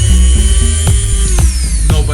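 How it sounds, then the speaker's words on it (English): A Dremel 100 rotary tool runs loud and close, a steady high whine with slight pitch wobble and small dips as it spins. "So here is the Dremel 100."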